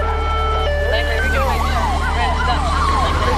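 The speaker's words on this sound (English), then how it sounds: "We turned on red lights and sirens in an attempt to stop him." A police car's siren wails and yelps in rising and falling sweeps during a pursuit of a brown sedan, loud and close over a steady low engine rumble, with the red lights and siren switched on to stop the fleeing driver.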